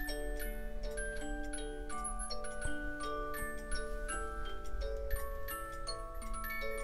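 An Ibex Hunter cuckoo clock with a dachshund, an eight-day musical model with shingled sides and roof, ticks steadily and softly, its regular ticks sounding over sustained music box tones with no talk.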